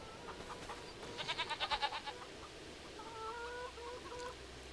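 Goats in Farming Simulator 25 give faint, quavering bleats that come in a rapid pulsing burst, followed later by a few thinner, drawn-out calls over quiet background noise.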